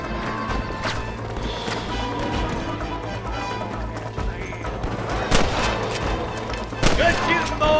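Gunfire rings out in the Western video game Red Dead Redemption, with a few sharp shots spread across a shootout among horses and clip-clopping hooves, over a busy background of game sound.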